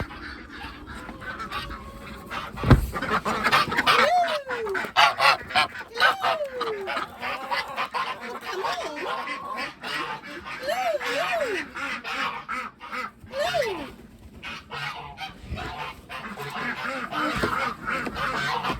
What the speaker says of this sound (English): Let's say a wee hello and good morning to our little ducky friends